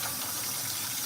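Water at a rolling boil in a pot for rice, a dense steady bubbling hiss, close and even throughout the short moment, with no talking.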